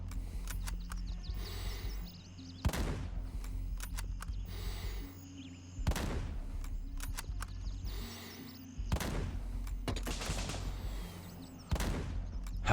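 Mosin rifle gunshots in the game Gray Zone Warfare, several loud, sharp cracks spaced a few seconds apart over a steady outdoor ambience, with occasional fainter distant shots between them and no talking.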